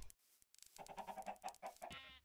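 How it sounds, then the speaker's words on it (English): Chickens cluck in the Minecraft video game, a busy run of short clucks and squawks at moderate volume, with no talking over them. "I finally found some chickens"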